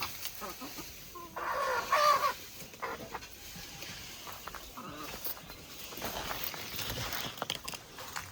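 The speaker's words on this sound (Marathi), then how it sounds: "पाण्यात कोंबड्या कशा पाणी पिते तिथं खेळते त्या चांगलं." Hens cluck in a village yard where water has been let out for them to drink, with voices talking nearby and a louder burst of clucking early on.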